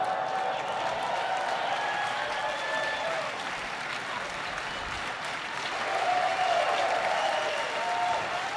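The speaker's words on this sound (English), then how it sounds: "And the crowd roared" An audience at a Google tech event applauds and cheers, a sustained roar of clapping and voices that swells toward the end, with faint whistles or tones drifting over it.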